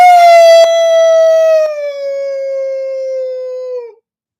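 A person imitates a long howl in the woods: one loud, close, wavering tone that slowly slides downward for about four seconds and then cuts off into silence.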